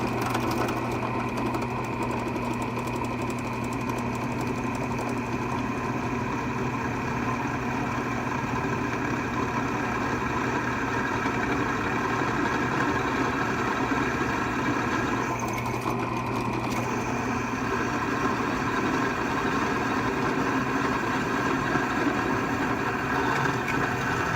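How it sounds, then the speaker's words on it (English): A grinder grinds the plunge line on a knife blade clamped in a jig, giving a steady, loud mechanical drone that runs without a break for the whole stretch, with no talking. "cranked it down, turned it on, let's grind"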